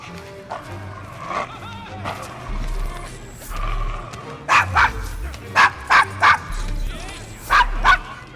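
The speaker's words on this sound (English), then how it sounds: "Is your dog quite all right?" A dog in Assassin's Creed Syndicate barks repeatedly in short loud bursts, several sharp woofs clustered in the second half, over a murky game ambience.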